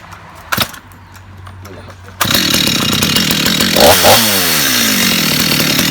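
A STIHL MS250 chainsaw starts up after a brief clatter and runs loudly at high revs, cutting into wood with a steady roaring whine that rises and falls slightly.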